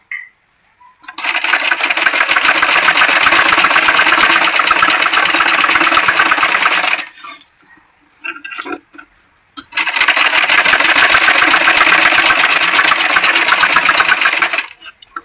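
A sewing machine stitches a button strip onto a blouse in two long, loud, steady runs of fast whirring stitches. A brief pause with soft handling noises separates the two runs.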